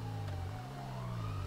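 In the game GTA 5, a police car siren wails steadily and loudly with a slowly rising and falling tone, heard alone for a short moment.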